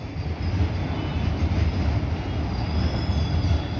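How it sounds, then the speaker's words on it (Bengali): A steady, fairly loud rumble from a Kolkata Metro Blue Line train passing near Garia, with rolling wheel noise on rail that holds an even level throughout and has no voices. "দেখ আমার বাড়ির চারদিক দিয়ে মেট্রো ঘুরছে, এখানে মেট্রো ইউটার্ন নিচ্ছে আমার বাড়ির চারদিক দিয়ে।"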